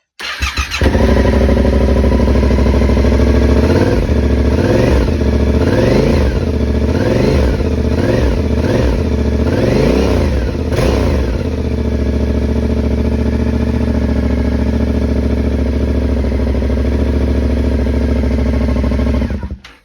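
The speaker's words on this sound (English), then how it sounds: "if you guys want to hear what the bike sounds like, this is what it sounds like" A Yamaha Tracer 7 / MT-07 motorcycle with a stock exhaust, running loud and close with a steady idle broken by several quick throttle blips in the middle, alone without talk.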